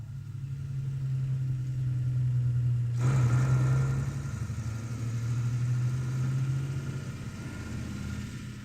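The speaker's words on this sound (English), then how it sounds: "A heavy-duty Fawn 4x2 Zugmaschine tows the all-important liquid oxygen fuel container." A heavy-duty Faun 4x2 Zugmaschine tractor towing a liquid oxygen fuel container runs with a steady low engine drone, then a sudden broadband surge of louder mechanical noise joins and continues under the hum.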